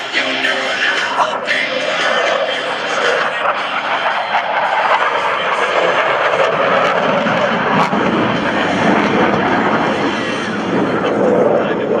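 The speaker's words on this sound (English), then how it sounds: "From the right, at 350 miles per hour, the Blue Angel Echelon Parade." US Navy Blue Angels jets passing in an Echelon Parade formation at 350 mph at a military open house, a loud sustained jet roar under a public-address announcer's voice.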